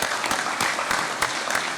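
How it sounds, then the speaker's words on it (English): Round of applause during a congress session, steady dense clapping from a seated assembly throughout with a few sharper claps standing out, fairly loud and continuous with no talk. "Please, let's give them a round of applause."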